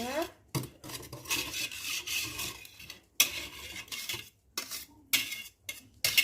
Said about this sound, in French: on sépare bien au fouet les petits morceaux qu'il peut y avoir